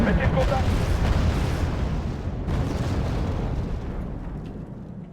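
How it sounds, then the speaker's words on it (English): Artillery barrages land in a real-time strategy war game during a beach landing battle, a loud opening rumble of blasts fading into a long decaying roar, with a voice talking briefly over it. "Artillery."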